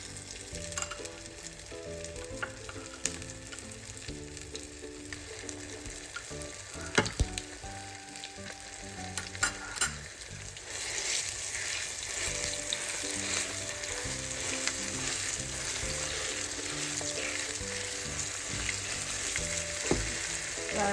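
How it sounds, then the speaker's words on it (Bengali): Panch phoron spice mix and dried red chilies frying in hot oil for a raw mango pickle, a steady close sizzle with light stirring clatter, growing louder and fuller about halfway through. "তো পাঁচফোড়ন আর শুকনো মরিচটা আমি হালকা টেলে নিব তেলের ভিতরে"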